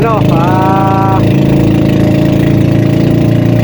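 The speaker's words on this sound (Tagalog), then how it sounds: "maingay yung makina ng bangka" A steady, loud motor drone runs throughout, a fishing boat engine chugging with a low rumble at sea off Nasugbu, Batangas; a brief tonal whine rises near the start.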